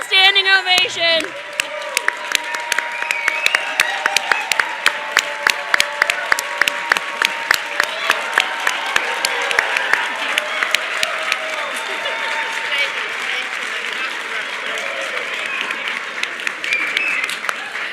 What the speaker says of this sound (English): And I think it deserves a standing ovation.